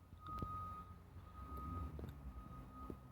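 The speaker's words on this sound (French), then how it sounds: "je remercie le camion qu'on doit sûrement entendre en vidéo" A truck's reversing alarm beeps in a steady repeating tone outdoors, accompanied by a low engine rumble and occasional clanks, fairly distant and moderately quiet.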